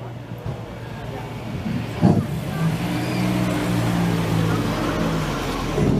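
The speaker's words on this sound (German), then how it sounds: "Hier einfach ein Traum von einem Auto, ein XK140 Drop, Drophead Coupé" A vintage Jaguar XK140 Drophead Coupé rolls past in an oldtimer parade in Essen-Rüttenscheid, its engine a steady low drone with a brief bump, heard at moderate distance amid street ambience and some talk.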